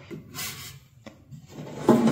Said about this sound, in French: je vais les installer dans le deuxième tiroir